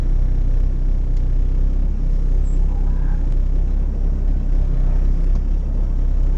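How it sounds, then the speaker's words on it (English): A low, steady engine rumble fills the space near an autocross start line, loud and unbroken, with no clear surge of revs. "Coming off the line here, I definitely used a lot lower RPM and was able to put the power down."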